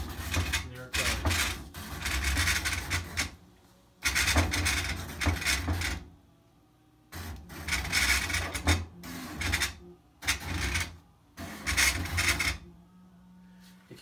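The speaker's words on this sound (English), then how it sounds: "you can see the knife blade actually cutting the twill in the arch shape" A vinyl cutter's knife blade slices twill fabric along an arch-shaped lettering path, giving repeated bursts of scratchy rasping and mechanical whirring that start and stop in several passes with short pauses between them.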